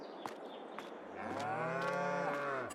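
Cows low inside a barn of about ten head on the Oberlausitz farm in Farming Simulator 22. A few faint clicks come first, then one long, full moo swells and fades near the end.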